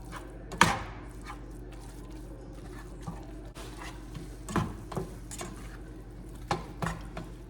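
Seasoned turkey with onion powder, salt and pepper is mixed in a pan, with scattered soft scrapes, taps and clinks of a utensil against the pan at an irregular pace, fairly quiet and close.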